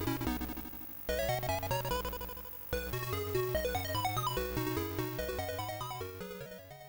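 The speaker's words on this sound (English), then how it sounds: "we're going to run Dizzy and listen to this chip in all its glory" Dizzy game music played through the AY sound chip of a ZX Spectrum 128K Toastrack: bright square-wave melody over a bouncing bass line and percussive ticks, loud, steady and continuous with no talking.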